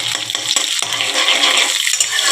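Garlic dropped into hot oil in a pan gives a loud, close, continuous sizzle with crackling spatters, with no talking.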